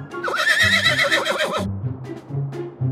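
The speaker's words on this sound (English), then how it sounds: "Horse." A horse in a video game gives a loud, shaky whinny lasting over a second, followed by a few quieter snorts and thuds.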